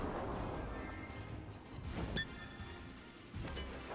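Warship guns in World of Warships boom in a few heavy blasts over a steady rumbling engine and sea bed, with a sharp whistling shell sound in the middle.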